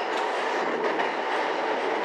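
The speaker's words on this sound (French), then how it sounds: "il y a aussi des trains classiques qui passent" A train runs on the railway between Hakodate and Onuma in Japan, giving a steady, close, loud rumble with a faint rhythmic clatter throughout.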